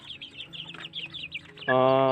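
Young DOC chicks in a coop give a busy run of high, rapid peeping and chirping calls, close and continuous, ending in a louder sustained tonal cry.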